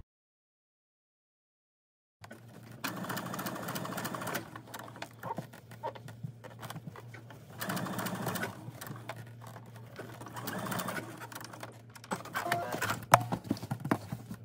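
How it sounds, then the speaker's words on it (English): A Brother SE1900 sewing machine running a basting stitch, its needle mechanism clattering in rapid rhythmic bursts over a steady motor hum, starting and stopping several times at close range. "that's my baste stitch on my SE 1900 Brother machine"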